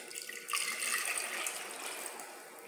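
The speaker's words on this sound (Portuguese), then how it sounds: "Água. Quanto de água?" Water pours into a cooking pan for caramelized sweet potato, a soft steady splashing stream lasting a few seconds, close but fairly quiet, with no talking.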